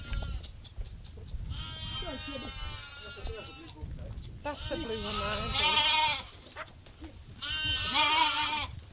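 A farm goat bleats in several loud, wavering calls close by, while people talk over and between the cries.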